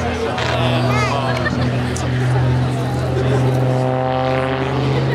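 At the Farnborough airshow, an aerobatic propeller aircraft flies low past the crowd, its engine drone sweeping in pitch as it passes, with crowd babble and a commentator's voice underneath.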